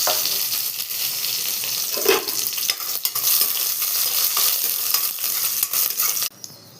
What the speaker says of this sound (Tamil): இஞ்சி ஒரு துண்டு ஒரு அஞ்சு முந்திரி பருப்பு ஒரு சின்ன பூண்டு ஒரு பூண்டு போட்டிருக்கேன் இதையும் ஃப்ரை பண்ணி எடுத்துக்கிறேன்